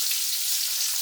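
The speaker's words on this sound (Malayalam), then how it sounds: "വെളിച്ചെണ്ണയിലാണ്, വെളിച്ചെണ്ണയൊക്കെ ചൂടായിട്ടുണ്ട്. ഇതാ 1 ഇട്ട് കൊടുക്കുന്നത്." Aakoli fish fries in hot coconut oil in a pan, a bright, continuous sizzling hiss that is close and steady throughout the short moment.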